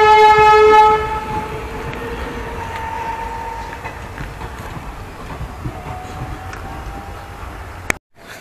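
A loud train horn blares at the start, then a train rumbles and clatters steadily past nearby at Borpara Road railway station, ending with a sharp clank.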